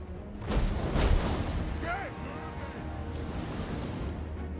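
Two heavy, roaring blasts from a Dwarfs flame cannon in a video game erupt in quick succession near the start, then fade into a rumbling battlefield backdrop while a person talks.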